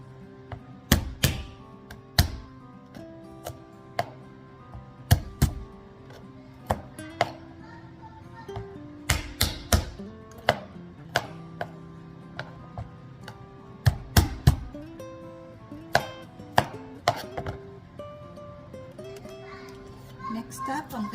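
A big hard kitchen knife chops ingredients for a chicken stew, giving sharp, irregular thunks on a cutting board that come close and fairly loud, in clusters of quick strikes with short pauses between them.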